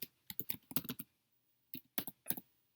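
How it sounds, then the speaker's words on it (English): Close, crisp computer keyboard typing in two short bursts of quick clicking keystrokes, separated by a brief pause of silence. "you just go ahead and type these things in"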